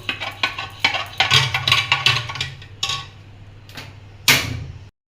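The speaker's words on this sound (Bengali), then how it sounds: "ডালটা এখন গুটে নিচ্ছে" Dal (raw lentils with green chillies) being stirred and mashed in a pot, giving irregular scraping and knocking bursts of utensil against the vessel, close and moderately loud, with no talk.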